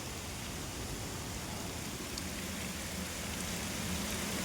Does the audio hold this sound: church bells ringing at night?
no